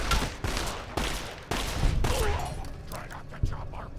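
Gunfire in Fallout: New Vegas, a rapid string of sharp shots at close range in a fusillade during an ambush, with brief speech mixed in.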